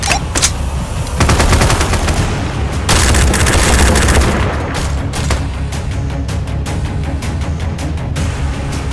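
Loud, continuous automatic gunfire and explosive booms fill a combat scene in the VR video game Tactical Assault VR, heard as dense rapid volleys without pause.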